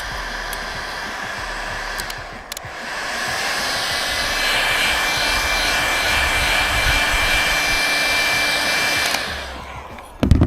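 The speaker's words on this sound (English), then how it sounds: "So I'm going to heat them up with a heat gun." A heat gun blows steadily on roof parts of a Ford Transit camper van conversion, a loud continuous whooshing roar that holds for about nine seconds before cutting off, followed by a brief clunk.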